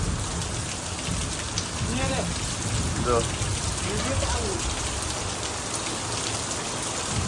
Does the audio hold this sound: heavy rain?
yes